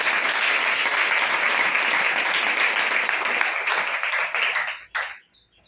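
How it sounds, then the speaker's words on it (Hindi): An audience claps for a participant at a book-reading competition: a full, steady burst of many hands that holds evenly, then fades and stops abruptly near the end. "ताली तो बजाओ"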